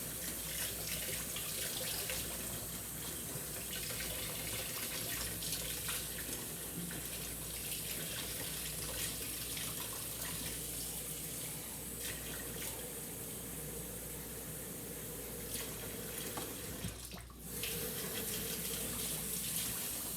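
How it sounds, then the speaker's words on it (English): Warm water runs steadily from a kitchen tap into a bowl for bread dough, a continuous loud rushing that holds almost unbroken, with one brief dip near the end. "so let's get the water in here."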